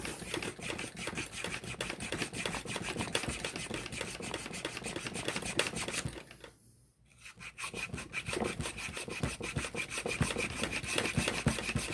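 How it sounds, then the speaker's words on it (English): A square file rasps by hand against a bushcraft knife piece in steady, rapid back-and-forth strokes, close and continuous, with one brief pause before the filing resumes. "I'm going to do that by hand filing."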